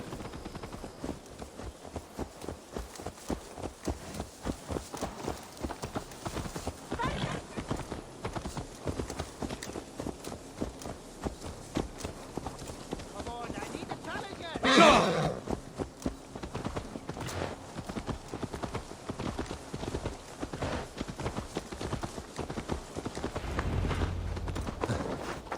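Horse hooves clip-clop steadily on the ground in the Viking-era game Assassin's Creed Valhalla, a continuous rhythmic walking beat at moderate loudness with one brief louder burst midway.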